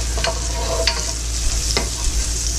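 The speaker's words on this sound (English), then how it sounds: "I'm gonna saute these for a minute or two until they get a little bit soft." Green beans sautéing in a pan, a steady close sizzle with a few sharp stirring scrapes against the metal, no talk.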